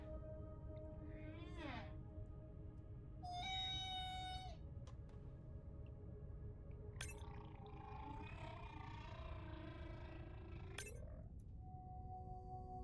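Whale social calls in the underwater exploration game Beyond Blue: rising and falling tonal whistles, a bright harmonic call and sharp clicks arrive one after another over a constant deep underwater rumble, with no talking.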